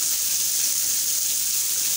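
Strong water gushing steadily from a homemade PVC pipe shower fed directly from a rooftop water tank in a home service area, a continuous loud hiss of spray with no voices.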